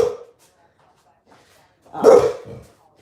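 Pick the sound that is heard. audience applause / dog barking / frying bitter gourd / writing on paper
dog barking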